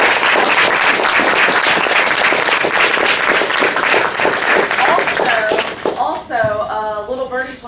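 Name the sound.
audience applause for a lecture guest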